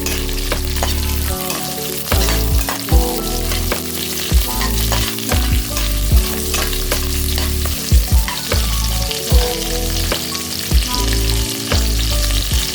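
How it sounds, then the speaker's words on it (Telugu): Cashews and thinly sliced onions frying in hot oil for Hyderabadi bagara rice, a loud, steady close sizzle broken by repeated scrapes and knocks of a stirring spoon against the pan, with no voices. "సన్నగా తరిగిన ఉల్లిపాయ ముక్కలు కూడా గోల్డెన్ బ్రౌన్ వచ్చేలాగా వేయించుకోవాలి"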